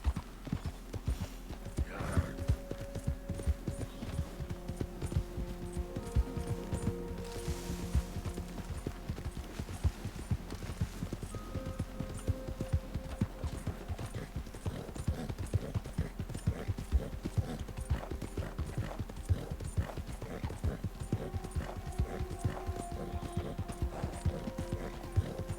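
Horse hooves clip-clop in a steady, rhythmic gait while riding across open country in a PC video game, continuous and fairly close over soft game music and ambience.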